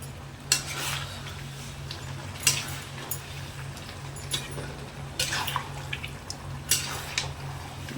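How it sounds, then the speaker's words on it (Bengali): Mutton masala curry being stirred and fried with stock added bit by bit, giving repeated scraping clinks of a spoon against the pot over a steady low hum, close and moderately loud. "অল্প অল্প করে এরকম স্টক দেব আর অল্প অল্প করে কষাবো"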